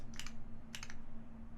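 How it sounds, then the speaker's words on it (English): Two short bursts of keystrokes on a custom mechanical keyboard, a TGR x Singa Unikorn build, clatter against a steady low electrical hum, then the rest stays quiet except for the hum. "listen to what this keyboard sounds like?"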